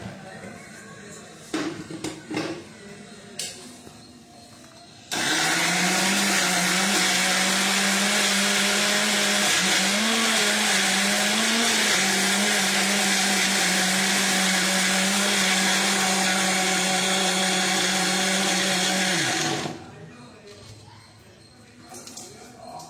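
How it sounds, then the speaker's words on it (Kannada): A mixer grinder whirs loudly and steadily for about fifteen seconds while blending paneer with milk, starting and stopping abruptly, with a strained pitch that wavers midway; brief clatter comes before and after the run. "ಇವಾಗ ಇದನ್ನ ಮಿಕ್ಸರಲ್ಲಿ ಒಂದ್ಸತಿ ಚೆನ್ನಾಗಿ ಮಿಕ್ಸ್ ಮಾಡ್ಕೊಳ್ಳೋಣ, ಗ್ರೈಂಡ್ ಮಾಡ್ಕೊಳ್ಳೋಣ."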